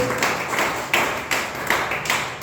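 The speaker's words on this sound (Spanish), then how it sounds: "den un aplauso a Dios" A church congregation claps together in a steady rhythmic beat, several loud accented claps standing out over a dense wash of hands.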